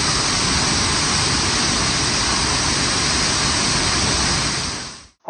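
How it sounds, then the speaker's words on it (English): Waterfall-style shower in a hotel room near the Arenal volcano in Costa Rica pours in a constant, loud, broadband hiss of falling water, running steadily alone before cutting off abruptly at the end. "We even had a shower that was a waterfall."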